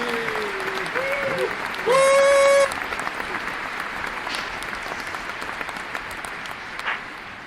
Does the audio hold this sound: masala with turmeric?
no